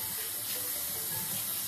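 Water from a tap runs steadily into a sink during hand washing, a soft continuous splashing hiss with no voices.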